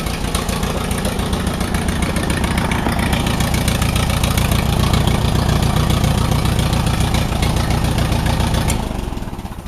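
Allis-Chalmers WD45 tractor engine idling as it warms up, a loud, close, steady low chugging with a rapid even beat that holds for several seconds before easing slightly at the end; no talk.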